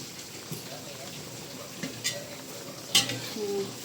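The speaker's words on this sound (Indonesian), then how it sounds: "lalu kita aduk." A spoon stirs chicken in a pan with oyster sauce, garlic and black pepper, giving scattered scraping and clinking knocks over a soft sizzle, close by.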